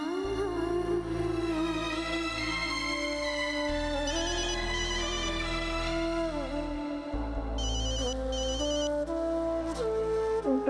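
A telephone plays a melodic electronic ringtone in a household, loud and continuous with repeating tones over a low droning backing, with no voices.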